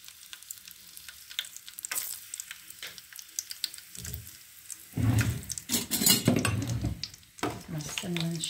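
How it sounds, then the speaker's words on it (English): Cinnamon stick sizzling in about half a cup of hot oil at the start of a lamb curry, a steady crackling fry that swells louder midway with stirring and pan clatter. "Now I'll show you how I braise. Add my cinnamon stick now."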